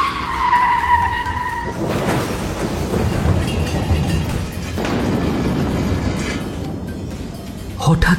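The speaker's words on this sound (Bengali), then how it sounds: "এবড়ো খেপড়ো রাস্তার ওপর দিয়ে বেশ তীব্র গতিতে ছুটছে সেই নীল অ্যাম্বাসেডরটা" A blue Ambassador car speeds along a rough, bumpy mountain road, its broad engine and road rumble holding steady throughout with a jolting, noisy texture and a louder burst at the very end.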